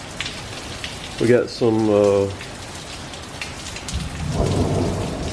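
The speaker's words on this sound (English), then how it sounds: "Pretty good rain. A lot of thunder and lightning carrying on." Heavy rain pours steadily during a thunderstorm in Columbus, Mississippi, with a rumble of thunder building toward the end; someone speaks briefly over the downpour early on.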